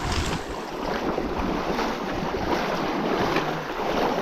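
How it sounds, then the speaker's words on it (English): Someone wades through a cold, knee-deep river, with a steady broadband rush of moving water close by and gusting wind buffeting the microphone throughout. "we got the river crossing to do"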